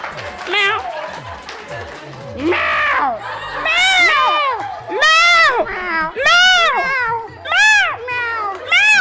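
On a Marathi TV show stage, a voice imitates a cat with a rapid string of loud, drawn-out meows, repeated one after another, with crowd and audience noise around it.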